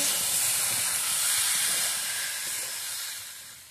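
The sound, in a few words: water poured into hot pan, hissing steam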